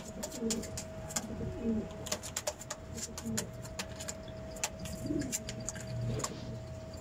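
Pair of zagajil pigeons cooing in low, repeated throaty bursts, close by, with faint chirps and clicks in the background.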